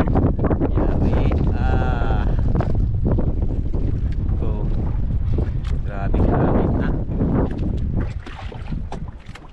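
Strong wind buffets the microphone on a small fishing boat at sea, a steady roar that runs the whole time, with people talking and shouting over it.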